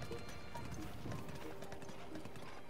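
Horse hooves clip-clop in a steady trotting rhythm in The Legend of Zelda: Breath of the Wild, moderately close over soft ambient game sound.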